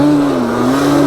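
Quad ATV engine, Banshee, held at a steady high rev with a sustained droning tone, loud and close, with no talking.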